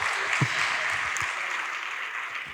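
An audience applauding at an Adventist student graduation ceremony, a steady wash of many hands clapping throughout, with a few nearer, sharper claps standing out and no clear voices.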